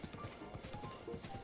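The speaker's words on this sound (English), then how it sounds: "there's Ganon's horse. That's so funny. That's Ganon's horse right there" Ganon's horse in the video game Breath of the Wild, hooves clip-clopping in a steady quick rhythm, faint and soft against background game ambience.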